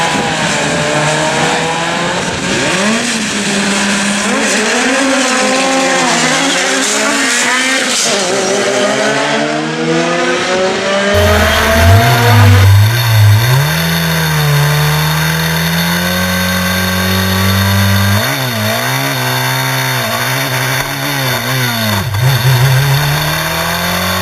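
Formula race cars starting a race at the Nürburg circuit in Germany: several engines rev and climb through gears with rising, overlapping whines, then a close, loud car accelerates hard with a steady droning pitch that dominates the end.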